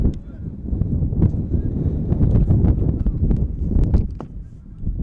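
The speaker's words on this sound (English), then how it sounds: "Strong gust coming in from left field again." Strong wind gusts buffet the microphone at an NCAA baseball game between Trinity University and Wisconsin-Whitewater, a loud, low rumbling roar that swells and fades over several seconds with faint ballpark sounds above it.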